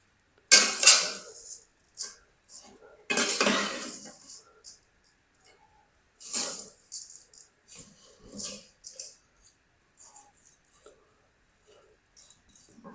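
Carrot halwa with cardamom being stirred and mixed in a pan: scattered scraping and clinking bursts of a spoon against metal, close and uneven, with pauses between strokes and a voice talking softly at times.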